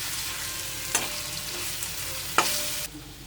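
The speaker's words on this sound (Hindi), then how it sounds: "अब फ्राई किए हुए सोयाबीन टिक्का डाल दूंगी। इसे अच्छे से मिला के 1 मिनट तक फ्राई कर लेंगे।" Fried soybean tikka sizzles in a pan with spices, a soft, steady frying hiss broken by two sharp scraping clatters as the mixture is stirred, then quieting near the end.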